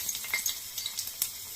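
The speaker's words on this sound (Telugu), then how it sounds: "ఎండిమిర్చి వేయగానే చిటపట్లాడిద్ది." Dried red chillies crackle and sizzle in hot oil while tempering a Telugu curd chutney, a quiet scatter of sharp pops and spits over soft frying hiss.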